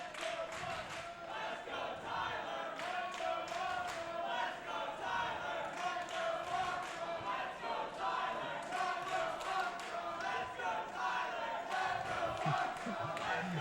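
A capacity crowd at the Classic Tetris World Championship silver bracket finals cheers and roars continuously, loud and sustained with rhythmic bursts of excitement.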